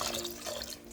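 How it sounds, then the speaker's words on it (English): Water pours into a pot, heard as a close, continuous splashing trickle over about a second, ending with a brief louder splash. "Pour a right amount of water"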